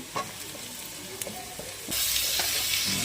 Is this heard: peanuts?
yes